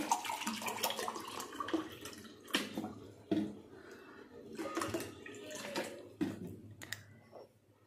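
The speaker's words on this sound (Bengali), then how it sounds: "আরও 1 কাপ জল দেবো।" Water poured into a pot for cooking rice, a steady splashing gush that rises and falls in several bursts with a few sharp knocks of the cup against the vessel, moderately close and alone.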